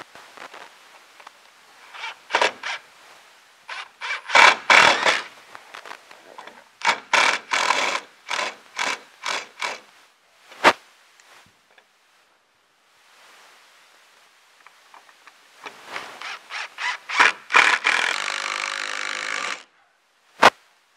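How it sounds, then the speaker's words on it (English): Long decking screws are driven up into a wooden ceiling board for a manual crank hoist installation. Bursts of drill whirring come in repeated short runs, close and fairly loud, with quiet gaps and a longer steady run near the end. "I'm going to go ahead and just drive these up into the ceiling in place."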